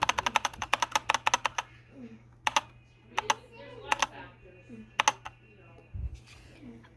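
Typing on a 60% mechanical keyboard, with quick bursts of sharp, close key clicks, then scattered single strokes and pauses, over a faint steady hum.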